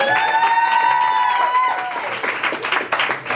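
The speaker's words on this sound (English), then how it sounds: "So you can clap for me again." Clapping from an audience at a performance event, starting beneath a sustained sung or tonal voice that fades, then continuing as scattered applause with some crowd noise.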